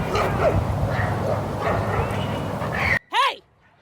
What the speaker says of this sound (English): Not even 30 seconds later, the dog's getting in a fight.